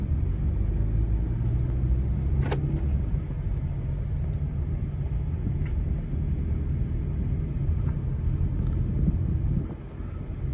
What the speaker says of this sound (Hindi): ये मैंने रोड पे निकाल लिया गाड़ी